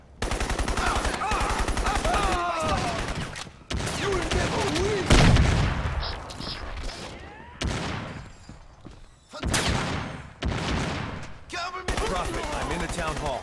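Rapid automatic gunfire and bursts in the PC game Crysis, loud and sustained with short gaps, mixed with game voices shouting.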